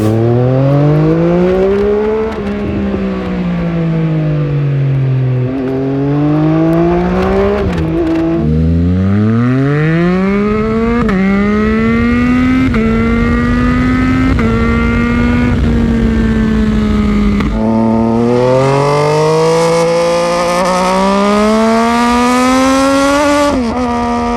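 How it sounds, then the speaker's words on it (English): Three-cylinder motorcycle engine exhaust revving up and down repeatedly, a loud, raspy, rising and falling note with harmonic whine, heard close and alone. "quite uncommon engine configuration with easily the most unique exhaust notes"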